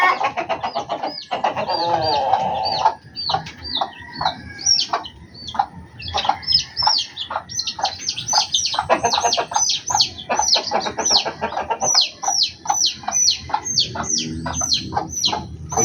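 Chicks cheep and hens cluck close by, a dense, steady run of high, rapid peeps layered with throaty clucks, all continuous with no pauses and no talk over it.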